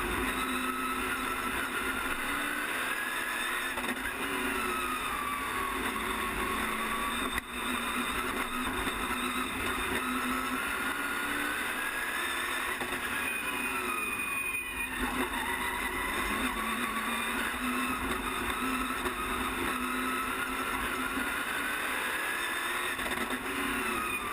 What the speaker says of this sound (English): here we get a lap of the track as we ride along with Tanguy Ide in his Dodge Charger